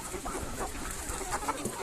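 Chickens clucking in a village yard, with ducks and turkeys kept alongside; soft, scattered clucks blend into steady outdoor background noise at moderate distance, with no talk.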